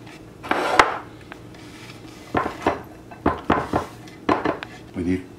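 Chopped celery and carrots being scraped into a bowl, a string of sharp knife-on-board and dish clinks in irregular clusters, close and fairly loud, with quiet talk in between.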